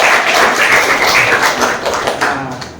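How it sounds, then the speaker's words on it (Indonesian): Applause for Saudara Maria's answer at an academic teaching assessment, a short, close burst of hand clapping that is loud and busy, then thins toward the end. "Tepuk tangan buat jawaban Saudara Maria"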